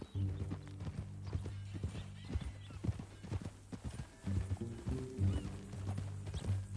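Horse hooves clip-clop at a steady walking rhythm in Red Dead Redemption 2, with a neigh or whinny, under a low musical drone and ambient game sound.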